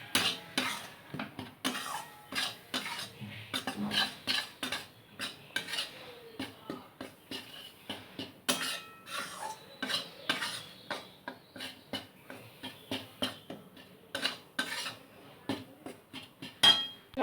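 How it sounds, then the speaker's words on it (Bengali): A spoon stirs and scrapes besan frying in ghee in a pan while laddu filling is made, giving repeated close clinks and scrapes in an irregular rhythm with a faint sizzle underneath and no talking. "বেসনটাকে ভালোভাবে ঘিয়ের সাথে নাড়াচাড়া করে ভাজতে হবে।"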